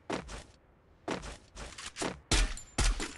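Gunfire in the Free Fire mobile battle royale game: several sharp, loud bursts of shots in quick succession, spaced irregularly across a few seconds, with no talk over them.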